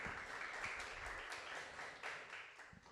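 A church congregation applauds during a worship service, steady dense clapping with cheers, fairly loud and continuous throughout.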